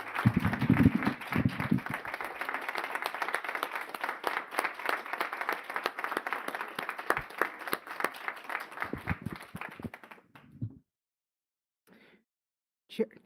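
Steady applause from an audience at a housing authority board of commissioners meeting, many hands clapping continuously for about ten seconds before fading into near silence with a few faint sounds.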